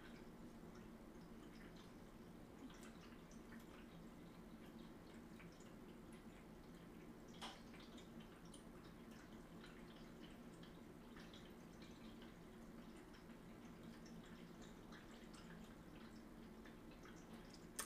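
A cat water fountain trickles softly and steadily indoors, with faint drips and splashes over a low, constant pump hum.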